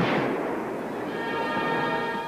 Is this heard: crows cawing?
no